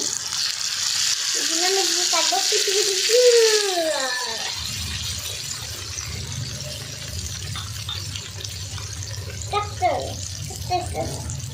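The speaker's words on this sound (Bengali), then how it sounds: "এবারে আমরা দিয়ে দিচ্ছি পরিমাণ মতো জল" Water is poured into a pot for fish curry, a steady close hiss that runs through, with a voice talking over the first few seconds and a low rumble later.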